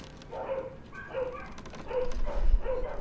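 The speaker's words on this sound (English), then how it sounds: "Man, they're just barking up a storm." Dogs downstairs in a house bark in a steady series of four muffled yaps spaced about half a second apart, heard through the floor with faint room noise and a low thump near the end.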